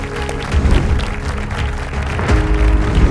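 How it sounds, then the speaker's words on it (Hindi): Audience clapping at a conference conclave to welcome a session moderator, a steady crowd patter that swells again toward the end, heard alone without talk. "तालियों से स्वागत किया जाए उनका एवरीवन"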